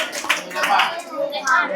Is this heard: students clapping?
yes